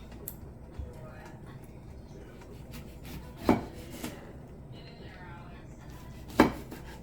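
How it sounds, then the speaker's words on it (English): A knife cuts up a lemon in a home kitchen, with two distinct, moderately loud chops a few seconds apart against low kitchen background noise. "Let's cut up some lemon"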